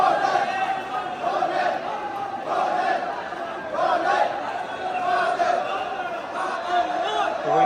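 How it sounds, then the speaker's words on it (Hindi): At Mahakal Lok in Ujjain, a large throng of devotees keeps up a continuous, close hubbub of overlapping voices and calls that swells and dips without pause. "भीड़ देखो यार।"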